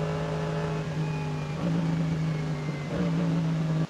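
Race cars in a long endurance race at the Nürburgring Nordschleife drone past in a steady, sustained engine hum, with one pitch shift midway and an abrupt cutoff at the end; no speech.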